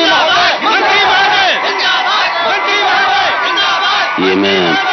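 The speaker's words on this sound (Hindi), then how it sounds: "जोर लगे चिल्लाना, मंत्री महोदय, मंत्री महोदय।" Crowd of people shouting and chanting together in a 1992 Hindi film scene, a loud continuous mass of voices with rising yells and a brief deeper bellow near the end.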